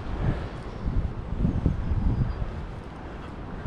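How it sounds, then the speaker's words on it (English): Steady outdoor wind buffets a GoPro fitted with a foam Windslayer cover, a continuous low rumble with gusty swells that ease off near the end, no voices. "Let's see if we can get the wind coming in."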